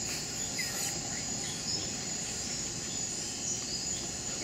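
A glass tree frog makes a high, chucking call in a tropical rainforest, faint and distant within a steady chorus of insects and other night creatures.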